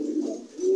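Pigeons eating and drinking medicated water give a low, continuous cooing murmur nearby, steady and moderately loud.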